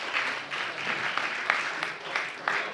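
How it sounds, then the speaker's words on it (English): A chamber of legislators and staff in the Alabama House claps steadily, a dense wash of many hands filling the room at moderate loudness with no break. "I think they deserve a round of applause for the work they do."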